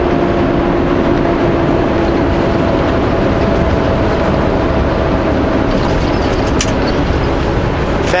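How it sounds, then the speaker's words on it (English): A semi truck climbs the Coquihalla Highway with its Jake brake off, the engine giving a steady, loud low drone through constant road and wind roar, with no clear gear change standing out. "Jake brakes off, upshift, keep as much momentum as possible."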